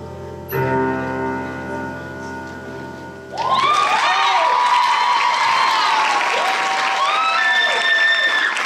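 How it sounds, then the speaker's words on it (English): A pageant audience bursts into loud, sustained applause and scattered cheers after a held musical chord, the clapping dense and continuous until the end. "Round of applause, round of applause, round of applause."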